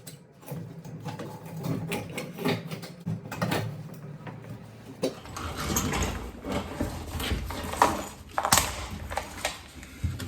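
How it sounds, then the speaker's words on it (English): Ratchet clicks and rattling metal mechanisms while shock absorber bolts come off a VW Mk1 Cabriolet, with a shuffling, uneven rhythm close by and a brighter, busier stretch in the second half. "Just removing the shock bolts now."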